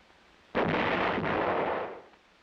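A field artillery howitzer of 1966 firing a single round: a sudden loud boom followed by a roaring rumble that decays over about a second and a half.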